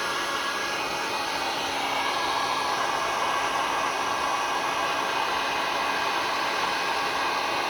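A heat tool blasts hot air over fabric in resin art, a loud steady rushing hiss like a hair dryer that runs unbroken and close throughout, with no talking.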